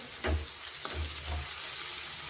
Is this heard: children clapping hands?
no